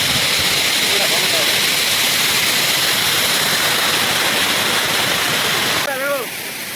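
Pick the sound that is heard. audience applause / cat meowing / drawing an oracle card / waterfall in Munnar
waterfall in Munnar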